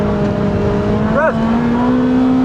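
Honda CRX with a VTEC engine under hard acceleration on a circuit, a loud steady engine drone rising gradually in pitch, heard from inside the car with a brief higher whine near the middle.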